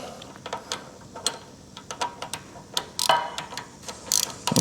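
Bolts being snugged down on a Harley XLCH chopper, a series of close, sharp ratcheting clicks and metallic ticks in irregular bursts, with no talk.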